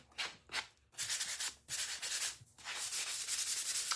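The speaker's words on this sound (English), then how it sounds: "all I'm gonna do is take my sanding sponge and sand it a bit." A sanding sponge rubbed back and forth over a small craft house, giving several close, raspy scrubbing strokes with short pauses between the first few passes, then steadier continuous rubbing.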